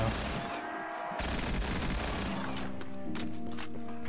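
Dense, rapid gunfire in Black Ops III Zombies, continuous bursts of shots rattling loudly across the whole stretch with little pause.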